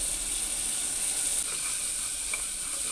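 Ingredients sautéing in a pan for kuska biryani give off a steady bright hissing sizzle, close and even throughout, with faint stirring underneath and no speech.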